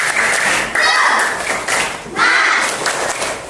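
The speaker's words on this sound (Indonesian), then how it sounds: "Kita tepuk semangat." Schoolchildren in a classroom do a rhythmic spirit clap, giving loud, close patterned bursts of clapping mixed with chanting voices throughout.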